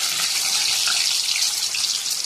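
Boiled eggs dropped into hot oil in a wok sizzle with a steady, bright hiss that runs unbroken and fairly loud throughout.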